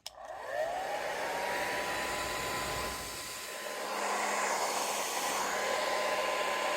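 A WavyTalk hair dryer blows steadily on its lowest fan setting, a constant airy whoosh with a faint whine running underneath.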